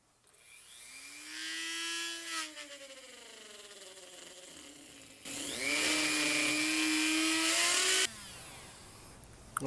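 A power tool cuts PVC pipe for a stabilizer stand with a rising, whining drone. It runs in two bursts with a pause between them, the second louder and harsher.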